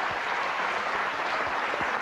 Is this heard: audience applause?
yes